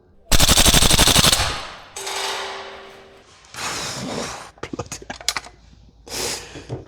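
A VFC AK105 gas blowback airsoft rifle emptying a full magazine on automatic, several sharp rapid bursts of loud, close clattering shots with brief pauses between them and a short run of single shots near the end.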